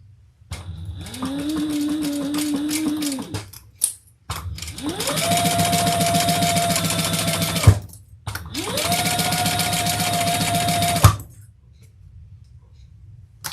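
A sewing machine stitches two pieces of brown leather in three long, steady running bursts separated by short pauses, each burst loud and close with a constant motor whine and rapid needle clatter, with no talking.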